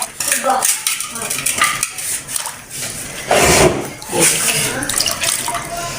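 Chicken feet tipped into a pot of hot water and rubbed clean by hand, giving loud splashing, sloshing and clattering against the metal pot in uneven bursts, close up, with no talking.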